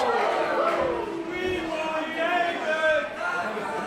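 A wrestling crowd at the GWF Legacy 26 show chants for tables in a steady, loud, sustained roar of voices that swells and holds throughout.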